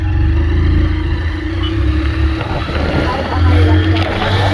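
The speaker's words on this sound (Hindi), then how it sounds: "अभी तो चालू हो चुकी है गाड़ी." A car engine idling steadily after being started, with a low throbbing hum and a slight rev midway, close and loud with no talk.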